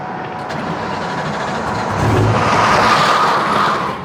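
A supercharged 2V Mustang GT accelerates hard, its engine noise swelling into a louder, sustained roar for a couple of seconds before easing off slightly, heard from inside the car.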